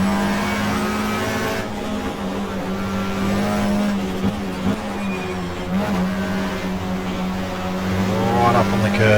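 A small Peugeot touring car races at Mallala circuit in a 1994 Australian Manufacturers Championship round, its engine droning steadily in a loud, continuous drone with shifting pitch, heard beneath excited commentary throughout.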